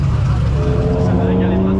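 A Fiat car engine drones loudly and steadily close by, a low rumbling hum that holds through the whole moment, with a voice faintly over it.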